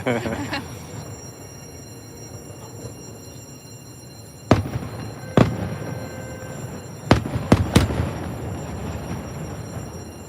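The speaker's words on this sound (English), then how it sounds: "You can hear the fireworks, those things reverberate just, all throughout the whole thing." Several sharp booms from distant fireworks burst at irregular intervals, each echoing briefly over a steady crowd murmur and background hum.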